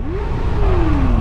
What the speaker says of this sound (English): now we're all revving it